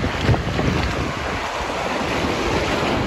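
Ocean waves wash onto the beach at Mandarmani, a constant roaring surf mixed with heavy wind buffeting the microphone, with no voices.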